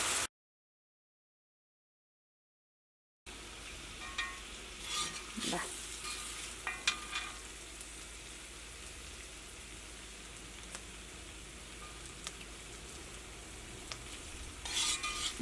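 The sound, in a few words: stirring fried coated beef with soy sauce in a pan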